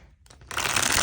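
Tarot cards are shuffled in a quick riffle, a short close burst of dense papery flutter rising after a soft start.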